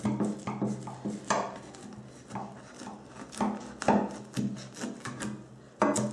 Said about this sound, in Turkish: Normal diğer böreklerde olduğu gibi kare kare keseceğiz.